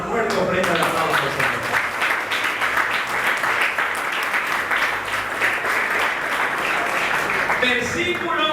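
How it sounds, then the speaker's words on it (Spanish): A church congregation applauds steadily for several seconds, a dense, loud wash of clapping that continues without a break from start to finish. "le damos una fuerte ofrenda de aplauso"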